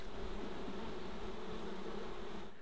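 Bees buzzing in a continuous, dense drone during a hive rescue in an orange tree, a steady close swarm hum that stays level and loud throughout.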